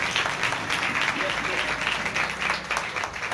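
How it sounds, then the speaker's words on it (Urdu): Loud, steady applause from a church congregation during a Sunday service, a dense wash of many hands clapping at once that holds without a break. "زوردار تالیوں میں"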